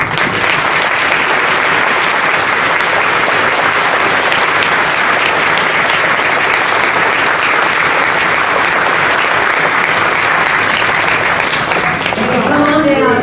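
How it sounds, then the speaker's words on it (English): Sustained, loud applause from an audience standing at an elementary school Veterans Day assembly, honoring veterans. The dense clapping continues steadily for about thirteen seconds, with a voice coming in at the very end. "if all of you could stand again, we want to give you a round of applause"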